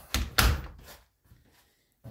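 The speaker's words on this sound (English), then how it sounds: "once I close this door" Someone closes a door in a garden shed that holds a gas mower: a couple of close, solid thumps that then fade into quiet.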